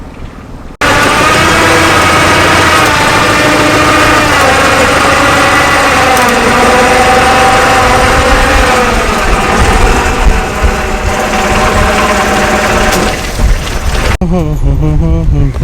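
A loud, continuous boat engine drone runs steadily throughout, close and unvarying, with faint background voices now and then, on the backwaters of Alleppey, India.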